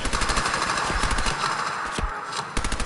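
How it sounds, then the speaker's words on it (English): An armor-piercing submachine gun in Fallout 4 fires rapid, close, loud bursts of automatic shots in a steady rattling rhythm, with a brief pause before firing resumes. "The armor-piercing submachine gun."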